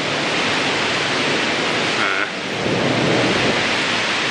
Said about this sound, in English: this is a proper storm